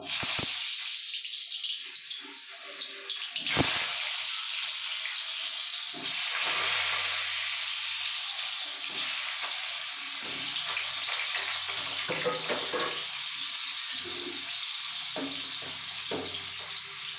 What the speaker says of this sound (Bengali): আলুগুলোকে আমি একটু ভেজে নেব